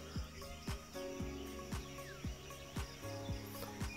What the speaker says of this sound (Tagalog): Yung mga huni ng ibon dito